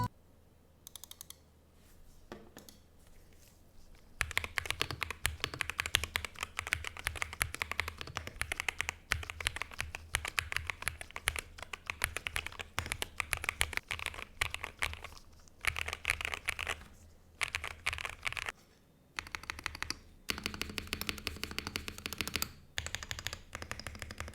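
Rapid clacky typing on a Monsgeek M1W mechanical keyboard with Akko V3 Piano Pro switches, close and crisp, in dense bursts broken by short pauses.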